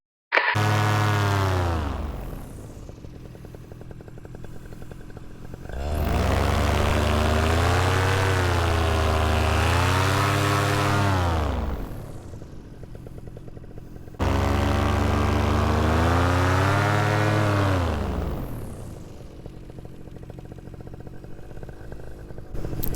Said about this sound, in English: That's the Kylo method of motor break-in